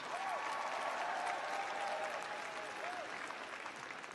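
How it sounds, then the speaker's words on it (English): A large graduation audience in an arena at a spring commencement ceremony applauds family and friends, producing a dense, steady roar of clapping with a few faint whistles rising through it. "So a round of applause for your family and friends"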